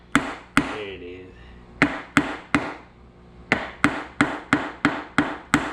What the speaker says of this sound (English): Try not to use a hammer, but sometimes you got to.